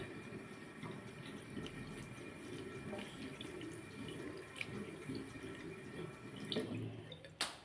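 A tap runs steadily into a sink during a face wash, a continuous close splashing stream with a few small knocks and a louder splash near the end.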